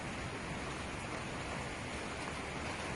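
Light drizzle falling at night in a home courtyard during a thunderstorm with lightning, a steady faint hiss of rain throughout with no voices.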